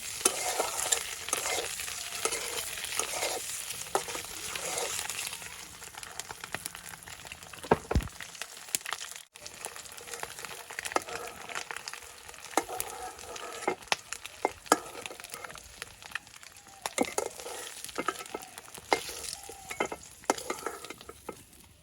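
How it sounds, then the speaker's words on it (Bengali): Eggs fry in a pan for a rural curry, giving a continuous soft sizzle with scattered crackles and occasional stirring or scraping clicks, fairly quiet and up close. "ভাজা হয়ে গেল ডিমগুলো"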